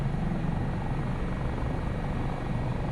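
An AS365 Dauphin helicopter in Microsoft Flight Simulator 2024, flying over New Zealand scenery: a constant loud turbine whine and rotor drone, steady and close throughout, with no speech.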